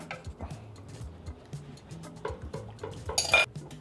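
A spoon stirring an egg and milk custard in a pot for an old colonial dessert, with irregular close clinks and taps of metal against the pan.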